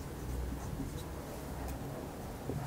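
Writing on a board during an eighth-grade maths lesson on financial arithmetic. The soft scratching runs steadily over a low background hiss, with no voices.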